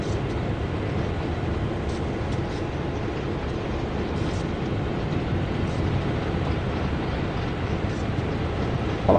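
A Canadian National train in Train Sim World 2 rolls along at a slow, steady pace between Aldershot and Oakville, its low rumble and rail noise holding constant throughout with no talk.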